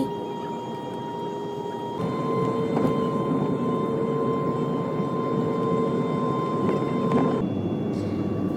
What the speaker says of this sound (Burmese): လေယာဉ်ကစင်ကာပူနိုင်ငံည9:00နာရီမှာစထွက်ပါပြီ။